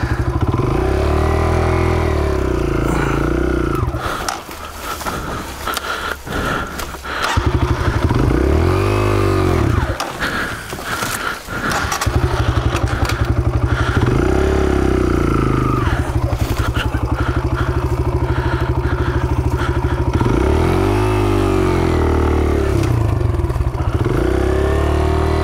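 A dirt bike engine revs and drones on a wet trail, loud and close, rising and falling with throttle, with a clattering rough patch midway and brief drops before the motor picks back up.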